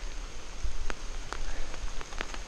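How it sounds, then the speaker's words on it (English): Heavy rain falls steadily outdoors in a garden during a storm with lightning, a dense continuous hiss broken by a few sharper drop impacts close by, with no talking. "it's starting to rain again heavy"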